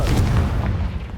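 Confringo blasting spell explosion in Hogwarts Legacy, a deep, loud rumbling boom that swells briefly and then decays over about a second, with no talking over it.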